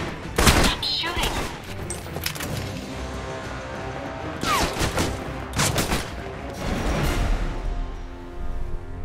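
Gunfire in the video game Alpha Protocol: repeated loud bursts of automatic shots and rattling volleys across the whole stretch, with brief gaps between bursts.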